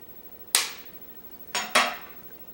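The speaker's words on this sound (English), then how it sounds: "So I need to crack my egg, and I use a knife to give it a tap." A knife blade tapping an egg to crack it for a breading mix: one sharp click, then a quick double tap about a second later, close and crisp in a quiet kitchen.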